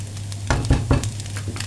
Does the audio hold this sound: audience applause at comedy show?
no